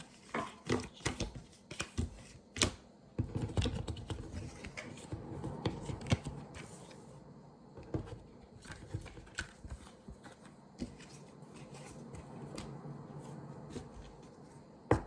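Tarot cards are shuffled by hand in a quiet room, a run of soft papery riffles, taps and slides at close range, irregular and continuous with no voices.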